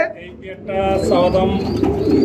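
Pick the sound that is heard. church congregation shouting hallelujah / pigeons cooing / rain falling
pigeons cooing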